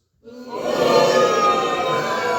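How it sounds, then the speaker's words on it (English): A crowd lets out a sustained collective vocal outburst of jeers, starting abruptly and holding loud and steady for about two seconds with no clear speech. "Everybody boos."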